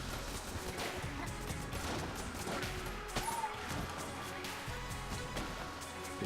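Gunfire in the video game Enter the Gungeon, a dense, continuous barrage of shots and crashes at fairly low level, with no talk over it.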